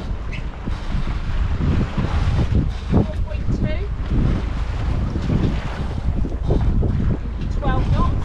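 A sailboat flying a Code Zero sail moves through open water in about 12 knots of breeze, with steady wind buffeting the microphone over a constant rush of water along the hull and voices talking now and then.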